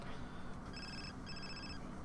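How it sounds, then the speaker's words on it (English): A phone rings inside The Sims 4, two short electronic trill bursts sounding faintly over steady background noise. "Oh shit, someone's ringing me."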